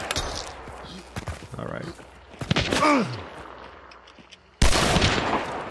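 Gunfire in the video game Hunt Showdown: several sharp, loud shots spaced irregularly, the last one a sudden nearby blast, with a player talking over the action.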